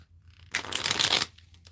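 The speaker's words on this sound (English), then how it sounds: "Shuffle." Tarot cards are shuffled once in a quick, crisp riffle lasting under a second, close and alone.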